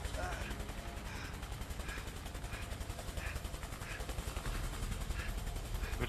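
Police gunfire in the video game A Way Out: a steady stream of rapid shots rattles throughout, dense and continuous, fairly loud beneath faint game noise.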